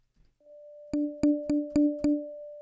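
Five evenly spaced metronome clicks sound over a sustained steady tone, crisp and close, following a brief soft rustle at the start.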